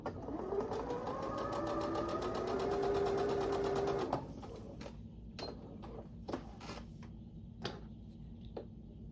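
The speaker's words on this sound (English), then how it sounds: "line up the corners, and start sewing" A sewing machine stitches quilt block pieces with a fast, steady mechanical whir and rapid needle clatter for about four seconds, then stops, leaving faint scattered clicks and handling sounds.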